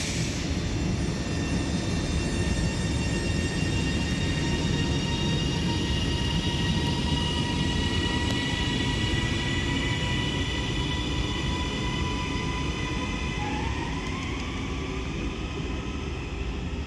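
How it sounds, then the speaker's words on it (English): Double Northern Class 331 electric train departing Deansgate station toward Manchester, a steady loud rumble with rising whine tones sweeping upward as it pulls away, continuous and fairly close. "as this double Northern Class 331 departs Deansgate now for Manchester"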